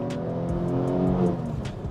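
A BMW E46 M3's engine pulls under light throttle, a smooth, close, rising growl with a rich harmonic tone.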